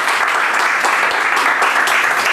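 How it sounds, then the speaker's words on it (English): A studio audience applauds loudly and steadily, a dense wash of many clapping hands close by that holds through the whole moment without a break. "Let's give a round of applause."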